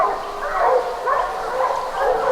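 Several hunting dogs bark, yip and whimper excitedly while running a bobcat track outdoors, a busy, overlapping chorus at moderate distance that carries steadily through the whole moment.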